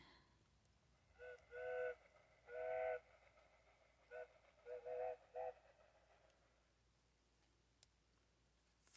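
A children's sound book plays a short recorded train effect: a few bursts of whistle-like tones with a pause between them, moderately loud over a quiet background.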